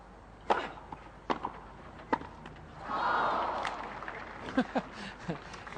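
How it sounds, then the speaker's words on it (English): Tennis crowd at the 1975 Australian Open final, Newcombe versus Connors, with sharp ball hits and court thuds, then a swelling burst of cheering and applause that fades under further play and commentary. "you can hear the whole feeling of the crowd"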